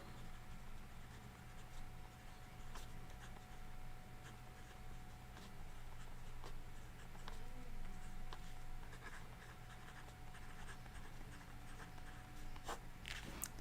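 Quiet scratching of a pen writing on a postcard, soft and close, with faint background hum and a few small ticks.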